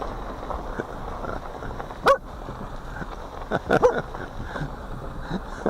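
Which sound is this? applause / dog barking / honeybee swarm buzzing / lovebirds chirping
dog barking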